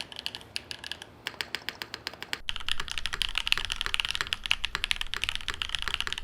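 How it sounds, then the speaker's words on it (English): Amphion Pink Robin switches on a KFA keyboard clack under typing, starting with an even run of single keystrokes, then a brief pause before a fast, dense burst of close, crisp clicks. "These are the Pink Robin switches from Amphion."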